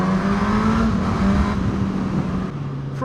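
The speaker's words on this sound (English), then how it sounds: "It sounds pretty good. Yeah, I got a stock exhaust on it." Suzuki GSX-S1000 motorcycle on its stock exhaust, revving loud and close with a steady engine drone and slight pitch shifts, heard alone without talk.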